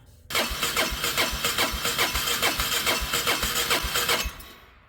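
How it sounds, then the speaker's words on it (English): An ATV engine is cranked after its fuel pump was replaced, giving a loud, close, steady chugging rhythm of about a dozen even starter-and-engine pulses. It cuts off abruptly after roughly four seconds. "I'm going to start the motor"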